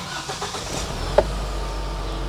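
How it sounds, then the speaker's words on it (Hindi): A Mahindra Veero CNG camper van engine starts up nearby, a short crank with a bump, then settles into a smooth low idle. "क्लच दबा के इसको ऑन करते हैं"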